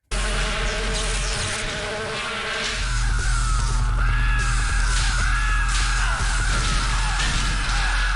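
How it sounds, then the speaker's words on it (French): Dense, loud buzzing of many bees in the Daikatana video game, a continuous droning swarm with fly-like whines that fills the whole stretch without pause. "Ah non, ça, c'est des abeilles."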